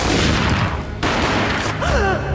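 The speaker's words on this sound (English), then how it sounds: "A gunshot boomed and she fell down in slow motion" Gunfire in the Max Payne video game, a dense burst of loud, close shots running together in a rapid fusillade, with a sharp break partway through and brief tonal game sounds near the end.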